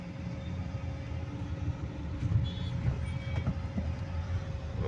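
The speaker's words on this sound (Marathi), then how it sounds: "बघा किती ट्रॅफिक." Road traffic on the Beed bypass, heard from inside a moving car: a low, steady rumble of engines with heavier vehicles swelling past midway and a faint tonal hum throughout.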